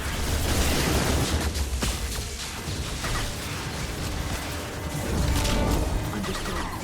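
Flashbang grenades in Mass Effect 2 burst with loud, bright crashing blasts amid a noisy combat din, one near the start and another swelling toward the end.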